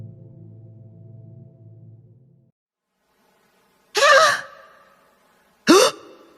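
A woman gasps sharply in a period drama scene, two loud breathy intakes of breath heard after a fading low tone, each brief and close, with silence around them.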